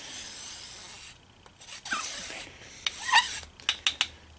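Street chalk is rubbed into the teeth of a metal file in short rasping strokes, faint and close, with a few sharper scrapes near the end and no talk.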